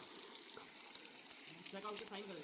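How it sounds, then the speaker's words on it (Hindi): Water is sprayed onto a car near a village in Corbett, India, making a steady, close hiss and gush with brief splashing toward the end. "भैया ने मेरी गाड़ी में पानी मार दिया"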